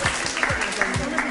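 An audience claps at a folk music concert by the Seven Urekler ensemble, a brief, dense burst of applause with a few sharper hand claps standing out, no voices.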